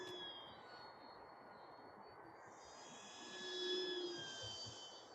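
A Multiplex Extra 300s electric RC airplane on a 4S battery buzzes overhead, a thin distant motor whine that grows louder and fades as it passes, over faint outdoor background.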